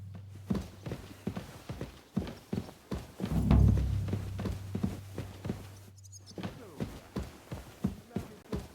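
Horse hooves clip-clop in a steady walking rhythm in Kingdom Come Deliverance II, close and fairly quiet, with a low background drone and a brief thud partway through.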